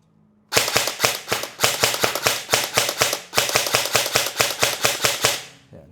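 An ENC 308 airsoft rifle fires in semi-auto mode, about twenty sharp, evenly paced shots in quick succession, loud and close, with no talking.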